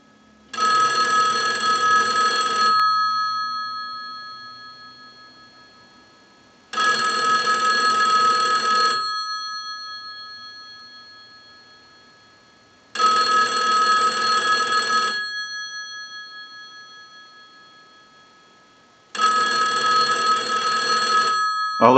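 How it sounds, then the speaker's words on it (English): A single-slot payphone rings in a workshop, driven by a test analyzer's ring cycle: four long electromechanical bell bursts, about two seconds each, spaced by roughly four seconds of silence, close and clear. "use the analyzer and send a ring cycle like you were getting a call"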